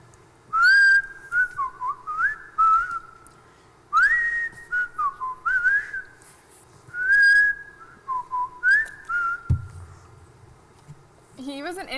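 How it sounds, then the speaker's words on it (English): A man whistles a wavering, sliding tune in short repeated phrases, fairly close and clear over a low steady background hum, with a few pauses between the bursts. "why is he whistling?"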